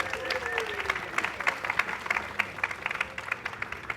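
Audience at a panel event applauds as panelists are welcomed, a moderate patter of claps with scattered distinct hand strikes and a few voices murmuring.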